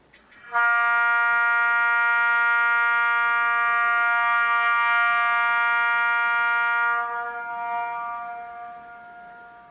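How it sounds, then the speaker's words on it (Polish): A long, steady electronic train horn from an HO-scale Roco RZD 2M62 model locomotive blares loudly for several seconds, then fades into a short decaying tail. "F3 to jest długa trąbka."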